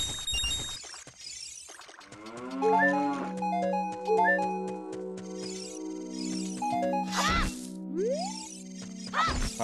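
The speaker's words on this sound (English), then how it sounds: "cow." A cow moos in the Zelda: Ocarina of Time randomizer video game, its synthesized lowing layered over chiming game tones and effects, heard clearly without speech.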